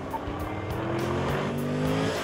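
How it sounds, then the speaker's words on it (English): An upgraded Camaro on Eibach springs runs a hot lap on a track, its engine droning steadily with rising harmonic pitch and faint tire squeal, loud and continuous with no talk. "Now let's see how the upgraded Camaro performs."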